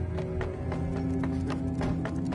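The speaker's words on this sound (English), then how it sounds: "Everything starting to sound like footsteps these days." Footsteps in the Fallout 4 video game, a steady run of close, rhythmic thudding steps over a continuous droning game ambience.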